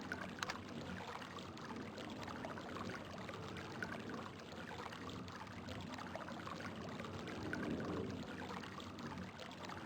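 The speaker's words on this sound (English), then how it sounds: "This is the sound of falling water." Falling water in the realMyst game world, a steady broadband splashing rush that holds at an even, moderate level throughout without pauses or voices.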